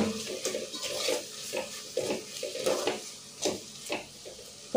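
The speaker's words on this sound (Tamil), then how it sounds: "இப்போ மசாலா பொருள் நல்லா வதங்கிடுச்சு" A spatula stirs masala in a pan on a low flame for bitter gourd kuzhambu, making a rhythmic series of soft scraping strokes with faint sizzling between them and no talking.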